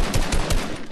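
Rapid bursts of gunfire in a first-person shooter game during a sniper fight, several loud close shots in quick rhythm over a short moment, with no talking.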